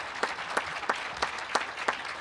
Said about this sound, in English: I think she'd have another round of applause for President